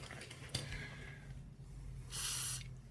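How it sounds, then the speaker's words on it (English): Penetrating spray from an aerosol can hissing onto a nut on a Suzuki DR200SE motorcycle in a workshop, one short burst early and a longer close hiss near the end. "So I'll get some more spray on there and here."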